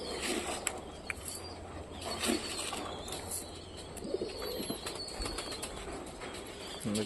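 Pet pigeons in a covered loft flap their wings in repeated short bursts nearby, with soft cooing and chirps underneath a continuous low background hum.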